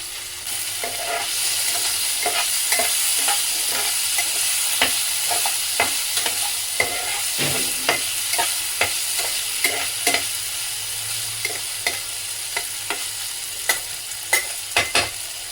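Paneer pieces fry in light oil in a non-stick pan, a constant close sizzle punctuated by frequent sharp clicks and scrapes of a spatula stirring and turning the pieces.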